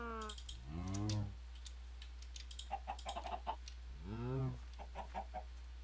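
Chickens in Minecraft with the Thaumcraft 4.1 mod cluck in short game sound effects, a few repeated clucks and squawks at moderate volume over a steady low hum, with no talking.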